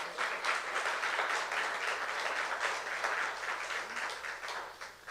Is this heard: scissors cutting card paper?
no